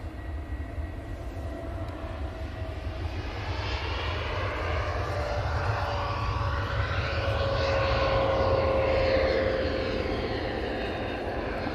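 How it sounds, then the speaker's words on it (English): Boeing 787 Dreamliner jets depart a runway at Manchester Airport, making a broad, rising engine roar that swells as the aircraft passes and stays loud and steady at a middle distance. "2 Dreamliners now departing off runway 23 right."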